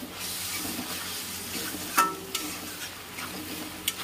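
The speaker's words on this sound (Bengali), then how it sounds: "ভালো করে কষে নেবো মশলাটা, যাতে কাঁচা গন্ধ না থাকে।" Spice masala for rohu fish curry sizzling in hot oil as it is stirred, a soft continuous fry hiss with a few sharp spoon scrapes and taps against the pan.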